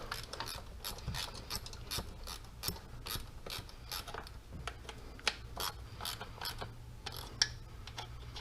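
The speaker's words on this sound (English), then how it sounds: "I'll go back and tighten it up on the coil pack, and then I'll finish tightening on the throttle body" A hand ratchet clicks steadily in rapid repeated strokes as fittings are tightened on a Hellcat's coil pack and throttle body during an intake install, close and moderately loud with no talking.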